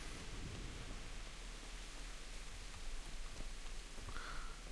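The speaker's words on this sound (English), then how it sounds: "It is raining heavily." Heavy rain falls in the video game Kingdom Come: Deliverance, a faint, steady hiss of downpour with no voices.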